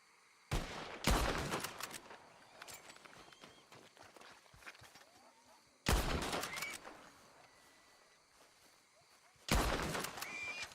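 Three bursts of gunfire aimed at wild boars, each a loud sharp volley followed by rustling and movement, spaced several seconds apart in an outdoor setting with no talk.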